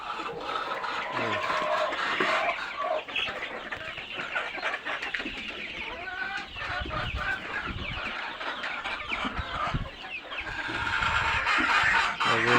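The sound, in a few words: layer parent chickens clucking, crowding to eat banana peels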